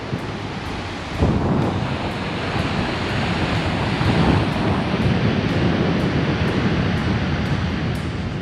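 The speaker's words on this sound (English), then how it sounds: "Kind of windy up here. I'm sure you can hear that." Strong wind gusts buffet the microphone on a clifftop beside the ocean at a fort on the California coast, with a steady roaring rush and surf beneath, loud and continuous throughout.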